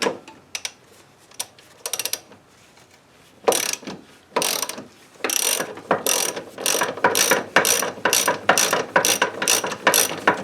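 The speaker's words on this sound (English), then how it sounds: "So let's try just a ratchet" A hand ratchet turns a nut on the front suspension of a 2007 Honda Accord, with sparse clicks at first, then a steady run of quick, loud, close clicking bursts in even strokes.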